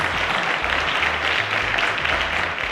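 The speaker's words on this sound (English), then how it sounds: "A round of applause to Samuel," Steady, dense applause from a quiz show studio audience, loud and continuous throughout without any break.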